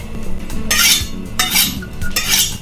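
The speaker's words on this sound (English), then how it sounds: "Just trimming some fat off" Knife trimming fat off a flank steak on a cutting board, three bursts of scraping and slicing with soft knocks between, close up and with no talk.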